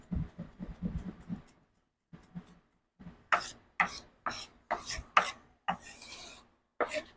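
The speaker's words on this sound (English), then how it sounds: "I like doing a nice little mince on it" A knife minces food on a tray in a run of rapid, close tapping chops. After a short pause comes a series of sharper, louder individual cuts and scrapes.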